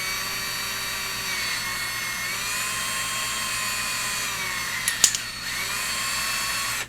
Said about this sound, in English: we're gonna go ahead and just like slowly drill into it